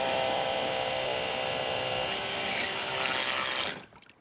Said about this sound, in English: because my pressure washer is cordless, I need to prime it